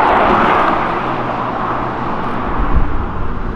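A car on the road at night, steady broadband tyre roar dominating over a quieter engine hum, fairly loud and continuous with a slight swell near the end.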